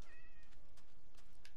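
A cat in the video game Minecraft meows in a short, clear, mid-pitched cry near the start, followed by a few fainter game sounds over a low background hum.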